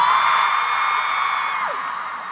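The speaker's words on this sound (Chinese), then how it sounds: "今天来的女同学，请尖叫" Women in a big stadium concert audience in New York let out a high-pitched collective shriek, a piercing sustained scream from many voices that slowly fades.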